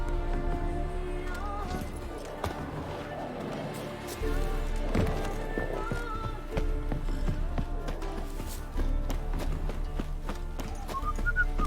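In The Witcher 3: Wild Hunt, a horse gallops with rhythmic clip-clopping hooves across open ground, steady and close, with occasional snorts and faint game ambience.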